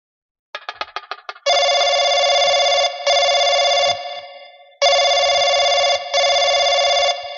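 A quick trill of clicks, then a loud electronic telephone ring in long double bursts, repeating twice with a short pause between.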